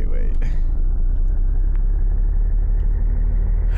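Low car engine rumble in the Mimic Search game as the player drives, a steady close drone, with a voice briefly heard over it.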